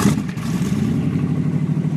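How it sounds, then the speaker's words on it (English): An extended T-bucket hot rod's engine idles a little high while still cold, a steady, throbbing low-pitched rumble with an even pulse, close by and alone. "Not warmed up yet, so it's idling a little high"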